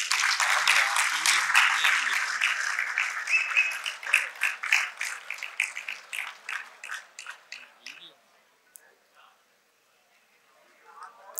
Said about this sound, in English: Can I please have a round of applause?